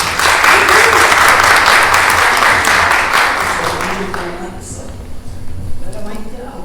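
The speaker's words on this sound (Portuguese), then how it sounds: "E palmas aqui para a nossa casa." An audience bursts into loud, dense applause that holds for a few seconds, then fades as voices begin talking.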